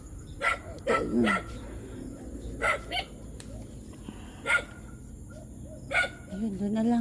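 A dog barks nearby in a run of sharp, separate barks spread across the moment, with some whimpering yips and light background chatter.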